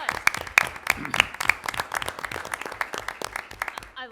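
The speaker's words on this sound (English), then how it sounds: "Let's give him a big round of applause." Audience at a school board meeting applauding a new middle school principal, a brisk burst of many hands clapping in an indoor room, fairly close and lively throughout the short stretch.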